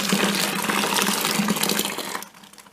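Liquid for a home brew pours steadily into a bucket, a continuous close splashing gush that runs for about two seconds before tapering off quickly.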